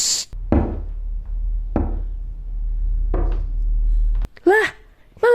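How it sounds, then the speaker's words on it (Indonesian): Three heavy, evenly spaced knocks on wood thud nearby inside a wardrobe in a horror film bedroom, with a low rumbling score beneath, followed by a brief burst of other sound at the end. "Suara ketukan itu malah berpindah dari dalam lemari di kamar Becca"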